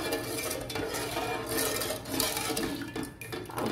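Gulab jamun mixture with ghee stirred in a pan: continuous scraping and clattering of a utensil against the pan, steady and close, with no voices.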